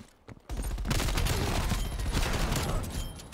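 AUG rifle fire in a video game, loud rapid bursts of automatic shots rattling almost continuously after a brief quiet start.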